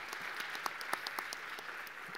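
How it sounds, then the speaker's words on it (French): A seated audience at a French business gathering claps steadily, a soft, even patter with a few sharper individual claps standing out from the group. "que je vous demande d'applaudir également"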